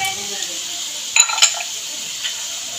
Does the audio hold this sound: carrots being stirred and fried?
yes